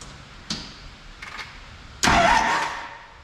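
A vehicle engine cranks briefly and catches, roaring to life and settling into a loud idle nearby after a couple of faint clicks.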